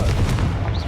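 A Confringo spell blast in Hogwarts Legacy, a short heavy boom with a low rumbling body, close and loud, fading within a second.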